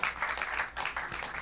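Applause from a studio audience at an oratory competition as a contestant's marks are announced, a short burst of steady clapping heard from a distance at low volume.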